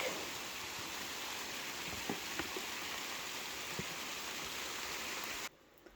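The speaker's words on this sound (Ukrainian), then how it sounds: "Швидко йдемо, бо розпочався у нас дощик" Steady rain patters continuously with a few sharper drops, then cuts off abruptly near the end.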